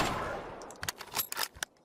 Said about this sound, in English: A sniper rifle, the Ballista.